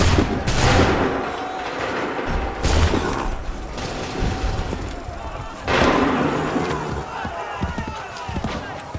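Soldiers fire rifle volleys during a battle in Assassin's Creed 3, with three loud, booming bursts of gunfire at uneven intervals over constant battlefield noise and rumble.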